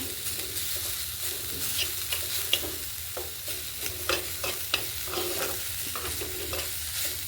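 Borma greens frying with garlic and onion in a pan in a village kitchen, a soft continuous sizzle broken by scattered scraping stirs of a utensil against the pan, close and fairly quiet, with no talk.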